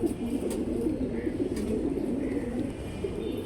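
Pigeons at a bird market coo in a soft, continuous rolling murmur, several birds overlapping at moderate distance with faint background bustle.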